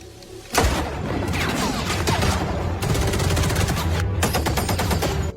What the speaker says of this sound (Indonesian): lalu terjadilah tembak-tembakan